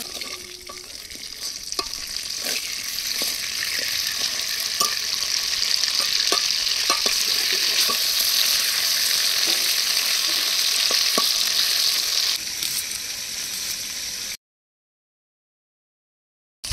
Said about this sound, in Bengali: মাছগুলো সব লাল লাল করে কড়া করে ভেজে তুলে নেব।